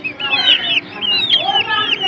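A Lassani (Aseel) hen clucks repeatedly at close range, giving short, rising calls in a quick series, with soft background noise.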